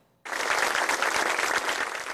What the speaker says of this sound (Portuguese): o último aplauso para o ídolo